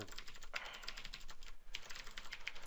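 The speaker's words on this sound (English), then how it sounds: "I'm just typing blind." Rapid, uneven keystrokes on a computer keyboard during a lagging online game, close and steady with short pauses between bursts, with no speech over them.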